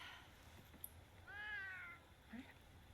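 A pet calico cat gives a single soft meow near the mic, preceded by a small tap and followed by a faint chirp against a quiet room hum.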